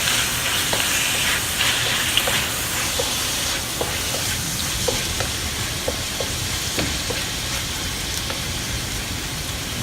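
Ginger pork cooks in soy sauce, moving from stir-frying to a boil, making a steady close sizzle and bubbling hiss with small pops and clicks scattered throughout and no talking.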